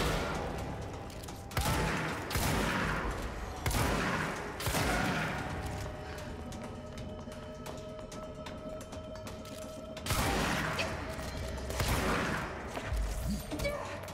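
Bursts of gunfire in the action game Control, several loud sharp volleys spaced a few seconds apart over a continuous background hum, with a voice briefly under the shots.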